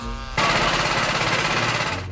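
A chainsaw cuts through a fallen tree after a 1987 snowstorm, a quiet idle jumping abruptly into a loud, close, buzzing roar that holds steady to the end.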